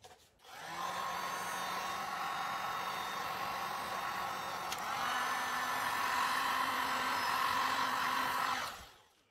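Heat tool blowing onto resin art on canvas: a steady, close airy roar starts abruptly, shifts slightly in pitch midway, then cuts off near the end, with no voices.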